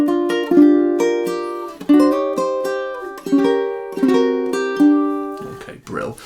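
Ukulele strumming the chords of a song with finger slides, repeated chord strums ringing out in a steady pattern, close and clear, ending with a brief rustle.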